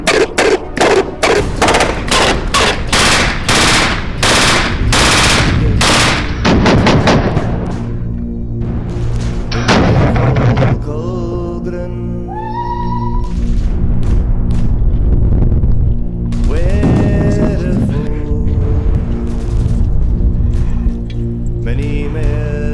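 Loud, close gunfire opens with a rapid string of sharp shots, then thins to scattered heavy blasts, with rumbling booms and music-like tones trailing through the rest.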